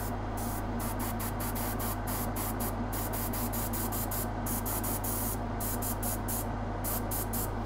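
An airbrush sprays paint onto weathered Necromunda scenery bulkheads, a steady close hiss over a low constant hum, with faint rhythmic clicks pulsing above.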